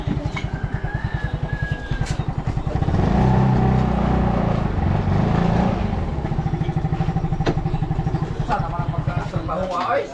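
Motorcycle engine warming up, a steady close putter idling with a brief louder rise in the middle, while people talk nearby.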